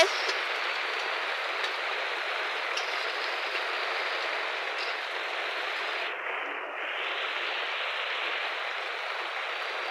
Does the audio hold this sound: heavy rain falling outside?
yes